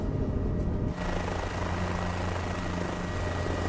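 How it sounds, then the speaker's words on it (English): Helicopter flight in the racing game Assetto Corsa Evo over the Nürburgring area: a loud, steady rotor and engine drone that briefly shifts near the start, then holds constant and close, with no voices. "Let's get in the helicopter and do some flying."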